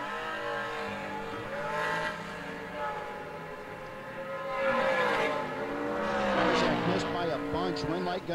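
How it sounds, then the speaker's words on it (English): A dragster launches and races down a drag strip at a bracket racing event, its engine rising from a distant drone to a loud, whining roar that swells and fades, with a few brief tire-squeal-like sweeps. "Barzak down in 48 in the Dragster"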